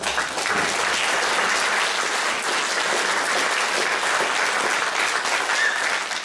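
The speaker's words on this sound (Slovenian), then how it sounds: "mu lahko danes še enkrat zaploskamo" Steady, dense applause from a large audience at a political election convention in Slovenj Gradec, holding at an even level throughout with no voices standing out.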